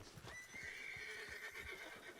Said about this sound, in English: Just situate your horses right here next to the road.